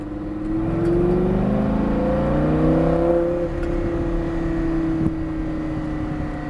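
Lamborghini Gallardo accelerating on a track, engine note rising loudly over a few seconds and then settling into a steady drone heard from inside the car.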